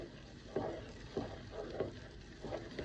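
Zeppole dough is stirred in a pot on the stove, a soft scraping, sizzling stir repeating about every half second in even strokes, close and fairly quiet with no talking.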